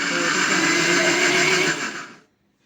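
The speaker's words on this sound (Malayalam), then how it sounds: "ചെറുതായിട്ടൊന്ന് മിക്സിയുടെ ജാറിലിട്ടിട്ട് ഒന്ന് കറക്കി കൊടുക്കുക ചെയ്യേണ്ടത്" A kitchen mixer grinder whirs loudly as its jar spins grated coconut, a steady high-pitched motor whine that cuts off and dies away after about two seconds.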